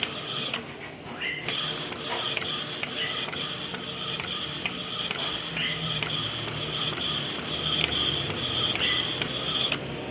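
An Epson EcoTank L121 inkjet printer with a modified exit roll prints on art paper with art paper ink, a continuous whirring and ticking of the mechanism with regular clicks, fairly quiet and steady throughout.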